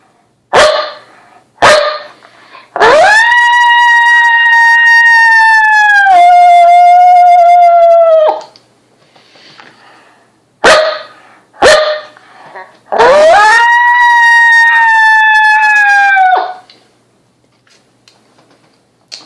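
A FOXPRO Gundog diaphragm call is blown to imitate coyote vocalizations: a few short, sharp barks followed by long wavering howls, loud and close, in two repeated sequences with silence between.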